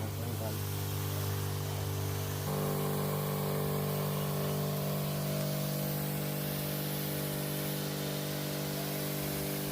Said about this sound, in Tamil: ஸ்ப்ரேவை பார்த்தீங்கன்னா ரொம்பவே நல்லா அடிக்குது